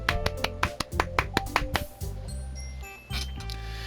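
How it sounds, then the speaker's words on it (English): Handclaps in the visual novel game Doki Doki Literature Club sound as a handful of sharp, separate claps in quick succession, followed by soft game music tones. "I'm the first to applaud."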